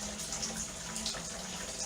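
Antifreeze coolant pours and splashes out of a supercharged Corvette Z06 engine, a steady liquid rush with faint dripping on top, heard up close without a break.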